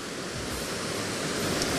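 A waterfall roars as a steady, dense wash of falling water, loud and close, with no pause or other sound over it.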